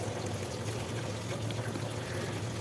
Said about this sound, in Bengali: 1 চামচ বাটা কাঁচা লঙ্কা আর সর্ষের জলটা দিয়ে